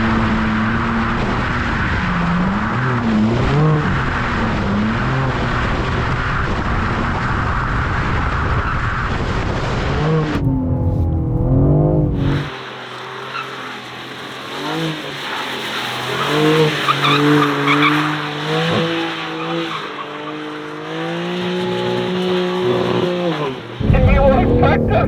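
A 2024 BMW M3 CS and M2 drift in turn. Tires skid and squeal loudly over a droning engine, with one car's pitch shifting midway, and people talk throughout.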